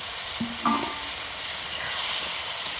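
Potatoes tipped into a pan of sautéed spices for Bengali aloo dum, sizzling and stirred with a few close scrapes early on, then a steady frying hiss continuing alone.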